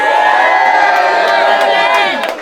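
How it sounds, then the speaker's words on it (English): A loud crowd at an Irish rap battle cheering and whooping together, a dense roar of voices that stays strong and fades slightly at the end. "Make some noise for Lizzy C."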